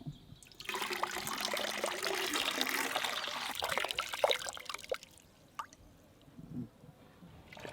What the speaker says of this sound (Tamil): நார்மல் தண்ணிக்கு பதில் தான் நம்ம இளநீ தண்ணியை ஊற்றுறோம்